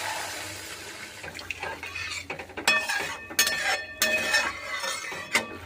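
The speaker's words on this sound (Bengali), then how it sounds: "এবার আমি জল দিয়ে দিচ্ছি।" Water poured into a pan of fried spices for a ridge gourd fish curry, with splashing and clinks of utensils against the pan, moderately close, with no talking.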